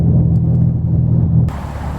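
A car cruises through a downtown area, producing a loud, steady low rumble of engine and road noise that changes character abruptly partway through, with no voices.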